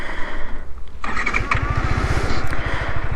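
Yamaha R15M (R15 V4) motorcycle cranking with a starter whine, then firing up into a loud, rapid, pulsing idle close by, with no talking.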